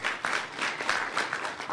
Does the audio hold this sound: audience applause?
yes